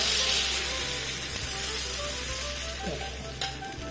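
Soya and tomato dosa batter spread on a hot pan, hissing in a loud, steady, close sizzle with a low background hum and a faint scrape or two, no talk.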